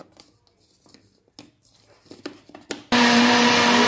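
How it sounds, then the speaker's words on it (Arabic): An electric blender whirs loud and steady for the last second, mixing milk with other ingredients for a homemade Moroccan danone-style yogurt drink. It kicks in abruptly after quieter kitchen handling noises. "كندوروهم في الخلاط الكهربائي حتى كينسجموا العناصر كامله"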